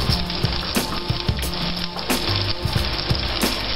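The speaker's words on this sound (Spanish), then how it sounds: "Ya tenemos el aceite caliente, echamos dos ajos laminados y una cayena." Two sliced garlic cloves and a cayenne pepper fry in hot oil in a pan, a close, steady sizzle with small crackles and pops throughout.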